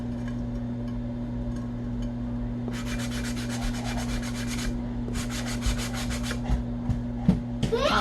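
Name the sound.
sanding block sanding away spray paint on a tumbler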